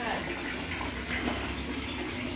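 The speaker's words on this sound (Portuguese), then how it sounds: "Aí joga água pra enxaguar." Water is poured to rinse rugs during household cleaning: a continuous splashing, rushing flow at close range, with a voice faintly present in the background.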